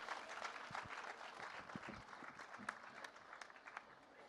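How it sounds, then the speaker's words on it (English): Audience applause welcoming a speaker at a talk, a steady wash of many hands clapping at moderate level with a few sharper individual claps standing out, no voices over it. "join me in clapping loudly"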